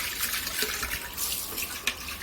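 Water splashes and pours steadily while a clay water pot is rinsed and washed, close and continuous with a few sharper splashes.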